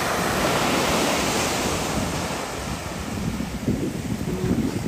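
Ocean surf washing onto a white sand beach in the Canary Islands, a steady close roar of breaking waves mixed with heavy wind buffeting the microphone, no voices.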